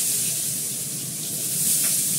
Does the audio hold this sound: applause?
no